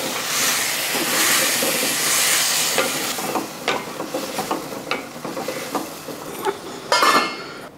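Sorrel leaves and stems fry in a hot pan with a loud, steady steamy hiss. The hiss eases partway through, leaving softer sizzling and scattered stirring clicks, then a brief louder crackle comes near the end.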